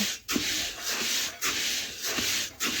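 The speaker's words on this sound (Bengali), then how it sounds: "নাড়তে নাড়তে আমি কিছুক্ষণ চালটা ভালোভাবে গরম করে নেব" Rice being stirred and dry-roasted in a pan to make puffed rice, with steady rhythmic scraping and rustling strokes about once a second, close and alone.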